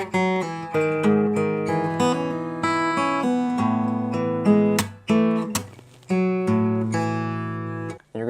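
Acoustic guitar playing a passage, with plucked notes and fingerpicked chords in a steady flowing rhythm, close and clear with no voices, ending on a few thumb-plucked notes.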